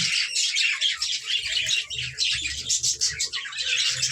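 Budgerigar chicks calling from inside a clay nest pot, a dense run of high, scratchy chirps and squawks that goes on throughout, close and fairly loud, with no one talking.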